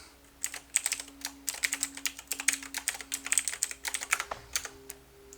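Rapid typing on a computer keyboard comes in uneven bursts of close, crisp key clicks and clacks, with brief pauses between flurries, over a faint steady hum and no talk.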